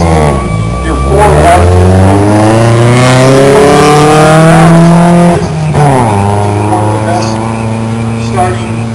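A Ford rally car at the start of a stage on the Oregon Trail Rally, engine revving loudly and close with rising and falling pitch, a brief dip before climbing again, with some voices faintly beneath.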